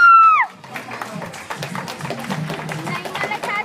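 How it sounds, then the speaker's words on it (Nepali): Audience applause at a stage performance event, a brief loud tone at the start giving way to scattered, moderate clapping from a crowd that continues steadily to the end. "सबैले कृपया कन्जुस नगरी ताली बजाइदिनु।"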